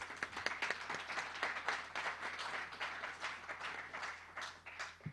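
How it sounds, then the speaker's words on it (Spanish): A small gathering at the opening of a meeting applauds, quiet scattered clapping that is fairly close and uneven, lasting a few seconds before dying away. "un aplauso para ellas"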